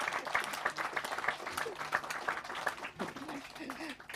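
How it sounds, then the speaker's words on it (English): An audience at a meditation lecture claps steadily with dense rhythmic applause, while a voice speaks over it toward the end. "Clap hand again."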